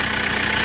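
A 1991 Volkswagen Jetta with a 1.6 liter diesel engine runs at idle, a brief, loud, close rattling drone with fast, even knocking pulses.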